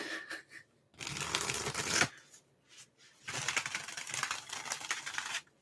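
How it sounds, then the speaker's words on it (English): A large tarot deck is shuffled in two brisk bursts of rapid riffling card flutter, close and fairly quiet, separated by a short pause with light handling taps. "I'm probably the only person that can do this, that can shuffle this deck, probably."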